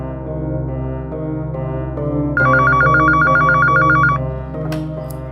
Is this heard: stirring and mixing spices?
no